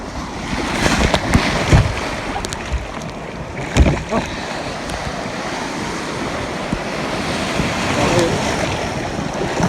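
Rough sea waves surge and break around a canoe paddled on choppy water, a steady rushing wash with gusts of wind buffeting the microphone and a few sharper splashes.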